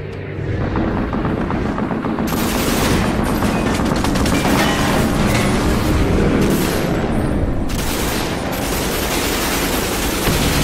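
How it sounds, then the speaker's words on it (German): Loud, relentless machine-gun fire fills a World War II scene in Assassin's Creed Unity, a dense roar of rapid shots and booming impacts that barely lets up for about ten seconds. "Ein Maschinengewehr."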